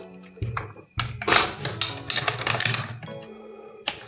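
Parts of an IMBEL IA2 carbine being handled and pressed into place, with a series of close, sharp metallic clicks, taps and rattles over a few seconds, ending in a final click.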